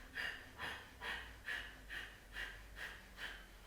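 Forceful rhythmic yoga breathing, air pumped sharply in and out through the nose about eight times at an even pace, close and fairly soft, with no talk over it.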